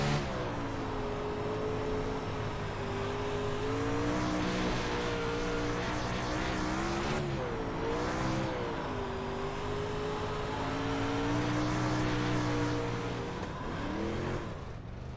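A dirt-track race car in iRacing roars under throttle, its engine droning and rising and falling in pitch as it powers through a corner on a slick surface, loud and continuous.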